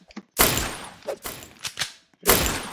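Gunfire in the Roblox game MVSD: a few sharp, loud bursts of shots separated by short gaps, with faint thuds between, and no voices.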